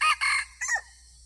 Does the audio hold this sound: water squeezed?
no